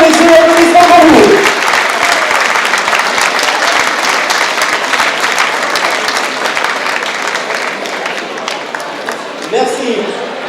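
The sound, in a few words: audience applause for race finishers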